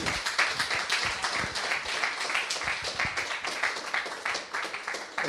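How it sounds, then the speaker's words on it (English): A conference audience claps to open the event, a steady patter of many hands at moderate distance, fairly quiet and even throughout. "please give a huge round of applause to Timur to start our conference"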